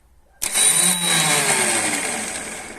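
The starter motor cranks on a YuMZ tractor engine after a key turn. The grinding whir rises sharply, then holds steady and loud for over two seconds, close by and without talk.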